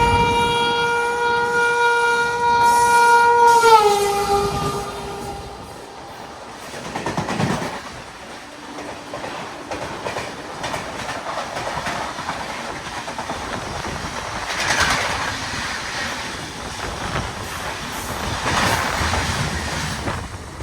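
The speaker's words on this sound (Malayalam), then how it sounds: "അങ്ങനെ ഇന്ത്യയുടെ ഏറ്റവും കൂടുതൽ ദൂരം ഓടുന്ന രാജധാനിയിൽ നമ്മൾ നിസാമുദ്ദീൻ എത്തിക്കൊണ്ടിരിക്കുക" The Thiruvananthapuram Rajdhani Express rolls slowly into Nizamuddin, with a long horn blast at the start, then rumbling wheels, rhythmic clickety-clack over rail joints and occasional hissing, fairly close and continuous.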